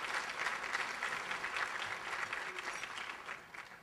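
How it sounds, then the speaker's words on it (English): Audience applause welcoming New York City Council Speaker Christine Quinn at an ABNY event, a steady wash of many hands clapping that holds for several seconds and then thins toward the end. "You can give her a round of applause."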